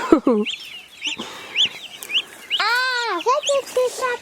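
A hen clucks and squawks on a permaculture homestead in short, bursty calls, with one longer drawn-out cry near the middle. People talk nearby at the start.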